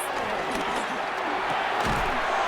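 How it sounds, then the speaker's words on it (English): Stadium crowd noise from a Madden 26 football game between the Raiders and the Commanders, a steady loud roar of fans throughout. "this crowd doing their best to make a lot of racket"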